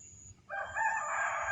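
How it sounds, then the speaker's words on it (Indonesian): At night, a rooster lets out a single drawn-out crow, fairly clear against a quiet, faint background with no one speaking. "Mbah Den dengar tadi suara ayam"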